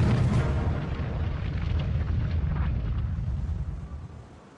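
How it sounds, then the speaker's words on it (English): A torpedo striking the stern of the battleship Bismarck: a massive, loud rumbling blast with deep low-end roar that holds steady for several seconds, then slowly fades away. "A single torpedo strikes the rear of the ship."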